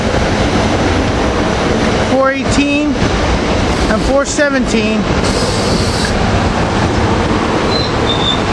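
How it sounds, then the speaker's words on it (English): A commuter train with rail cars 250, 287 and 404 rolls through a station at rush hour, a steady rumbling roar with brief wheel squeals, while someone talks over it. "Here we got what's supposed to be out of train 451 to the airport, I think, which it is"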